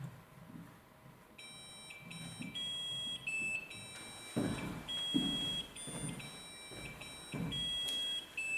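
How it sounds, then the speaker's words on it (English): REM pod paranormal detector in a castle entry hall, sounding bright electronic beeps and tones that shift pitch and overlap, with bursts of louder chirping over a faint background. "I'm hoping that camera catches what you're hearing now is the REM pod"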